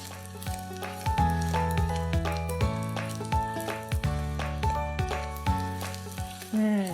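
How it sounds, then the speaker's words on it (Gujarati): Edible gum pieces fry in hot ghee with a steady, crackling sizzle, punctuated by repeated metallic scrapes and taps of a stirring spoon in the pan, close and loud. "બરાબર ગુંદર તળા એટલે એક અલગ ક્રિસ્પી લેયર અને સાથે ક્રિસ્પી ટેક્સચર આવી જાય"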